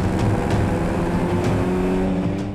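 Older-model cars racing through a film car chase along Gangnam-daero in a dystopian Seoul, engines droning and revving loudly up close in a sustained rush with passing surges and no talk.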